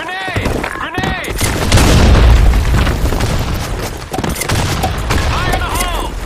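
Grenade blasts and rapid gunfire in a multiplayer shooter game on a sandstorm desert map: a heavy boom swells in the middle amid dense, continuous shots, with shouted voices over the battle.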